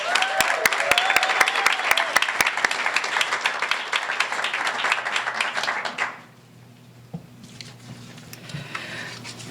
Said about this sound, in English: if we could give all of our Torrent Olympians one more big round of applause